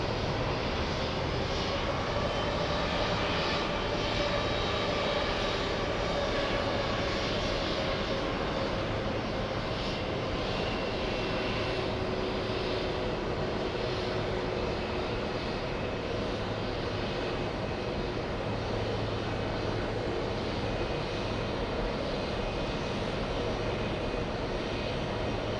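JetBlue airliner landing at an airport, a continuous loud engine roar and rush held steady throughout, heard from a distance with no talk.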